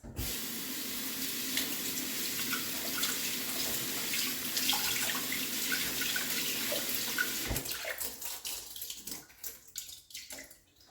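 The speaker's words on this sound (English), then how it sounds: "So I'll do this quick rinse with my 1 cup of rice." Tap water runs steadily over one cup of rice being rinsed in a colander, a continuous close splash that cuts off after about eight seconds, leaving scattered drips and small clatters.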